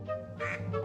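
A duck in the video game Blue Toad Murder Files quacks two or three times in quick succession, clear and close, with no talking over it.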